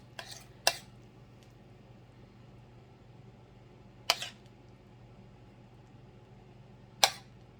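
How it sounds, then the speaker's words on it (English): Sausage gravy spooned onto biscuits: three sharp, isolated clinks of a spoon against a pan, spaced a few seconds apart over a quiet, steady background hum. "just spoon on some of this sausage gravy"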